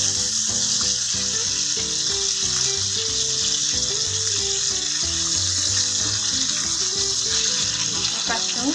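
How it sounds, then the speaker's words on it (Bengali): A whole tilapia fries in a pan over medium heat with a loud, continuous sizzle and crackle, while music plays steadily underneath. "অবশ্যই মিডিয়াম আছে, দেখে মাছটা ভাজতে হবে"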